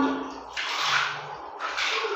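Water is scooped with a dipper and poured over a dog being bathed, in two splashing pours separated by a short lull, near and moderately loud.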